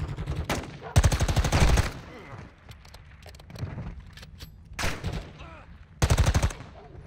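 Bursts of automatic gunfire in the Call of Duty Modern Warfare 2 campaign, several rapid loud volleys separated by quieter ambience and brief voices.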